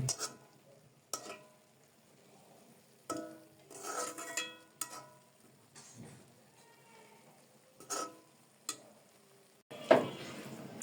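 Khesari greens cooking in a covered pan are stirred in short, separated bursts of scraping and sizzling, each a second or so long, with quiet gaps between them.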